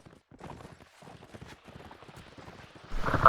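Horse hooves clip-clop in a real-time strategy match featuring heavy cavalry, a rapid irregular clatter of many hoofbeats under faint background game sounds, building louder near the end.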